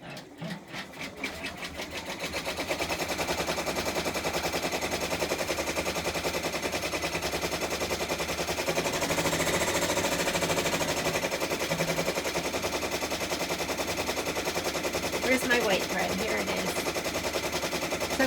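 A 10-needle embroidery machine runs a rapid, relentless stitching chatter, starting after a few seconds of quiet and then holding loud and steady at close range with only slight variations.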